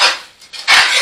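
Eggs and meat for a carnivore breakfast burrito being stirred in a pan, with a couple of brief scraping and clinking strokes of a utensil against the pan.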